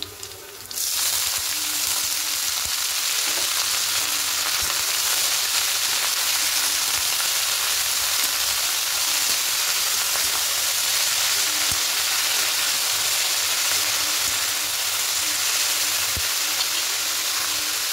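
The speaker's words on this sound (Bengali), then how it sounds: "এবার এখানে কেটে রাখা নোটে শাকটা দিয়ে দেবো" Chopped amaranth greens (note shak) drop into a pan with onions frying in oil, and a loud, even sizzle starts almost at once and holds steady throughout, with no talk.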